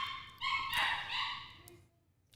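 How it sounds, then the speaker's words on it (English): A puppy whines and yips in a short high-pitched burst, close by and moderately loud, trailing off into quiet. "sorry about that puppy"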